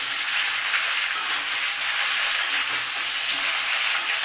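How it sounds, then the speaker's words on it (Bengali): Mango pieces for a sweet mango pickle, earlier sun-dried with salt and turmeric, sizzle and fry steadily in hot oil while being stirred, a dense close hiss with faint scraping and no talk. "আমি আমগুলো তেলে দিয়ে এইভাবে নেড়ে চেড়ে নিচ্ছি"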